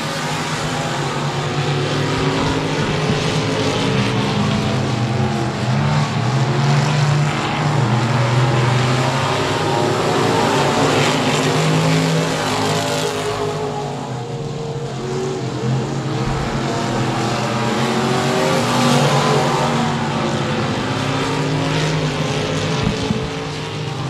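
Dirt track race cars roar around the speedway at 67 Speedway of Texarkana, with a continuous loud blended engine drone that rises and falls as the field circles, steady and unbroken throughout.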